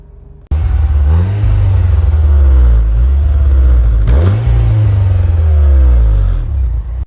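A Renault Wind with a 1.6 litre engine driving on the road, loud steady engine drone heard from inside, rising through the revs, dipping briefly at a gear change, then climbing again.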